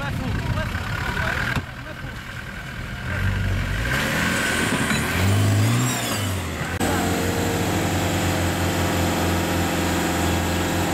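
An off-road 4x4 engine idles and then revs, its pitch rising and falling, with a steady rumble throughout and voices faintly in the background.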